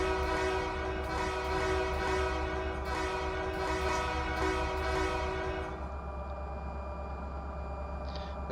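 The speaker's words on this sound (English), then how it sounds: "Honk jingle bells." A train horn in a train simulator game honks a melody like Jingle Bells, with loud, sustained tonal blasts in a rhythmic pattern for about six seconds before stopping, leaving a low rumbling background.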